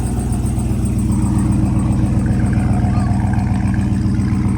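A pickup truck with a newly fitted aftermarket exhaust idles and creeps forward at low speed, its deep steady rumble loud and close and running without a break the whole time.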